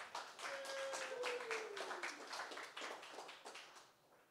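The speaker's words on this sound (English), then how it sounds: "Round of applause for James" An audience at a SecDSM 101 security meetup claps for James, a steady patter of many hands held at moderate level for about four seconds before tapering off.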